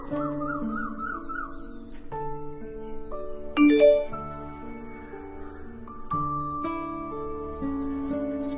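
A bright chiming phone message notification tone sounds over a soft musical background, with a few tinkling accents scattered through.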